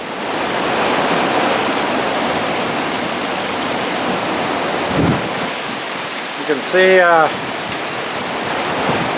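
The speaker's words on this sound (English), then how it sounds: "just started raining" Steady heavy rain from a thunderstorm in Alberta roars across the whole clip, overflowing the eavestroughs, with a brief low rumble midway and a short voice speaking near the end.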